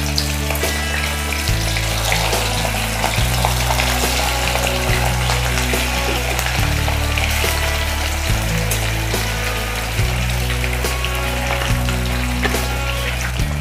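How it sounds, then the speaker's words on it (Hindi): Fish frying in hot mustard oil in a pan, a loud, dense, continuous sizzle and crackle close up, under a steady low hum, with no talking. "तो पहले हम मच्छी को फ्राई करेंगे।"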